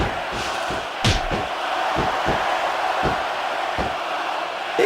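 A wrestling arena crowd in WWE SmackDown vs RAW 2006 roars in a steady, broad wash of cheering, punctuated by several sharp impact slams from the ring.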